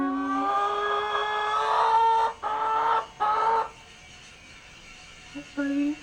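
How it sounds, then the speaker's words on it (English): A pet rooster gives drawn-out, throaty clucking calls while nesting, loud and close, breaking into a few shorter bursts near the end. "that is my rooster"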